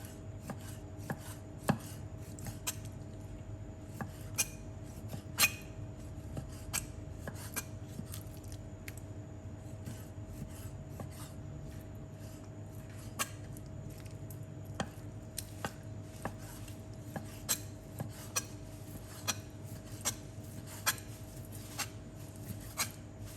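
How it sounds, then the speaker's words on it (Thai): A knife chops chicken breast steadily on a cutting board, quick irregular taps repeating throughout with a faint hum in the background and no talking. "ก็จะหั่นพอดีคำค่ะชิ้นพอดีคำ"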